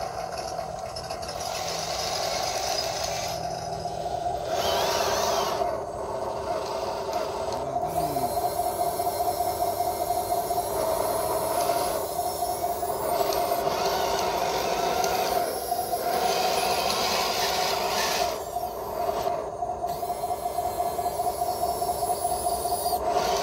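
A remote-control D9 bulldozer model pushing a six-wheel truck stuck in mud, a steady whining electric motor drone that rises and falls in pitch with short pauses.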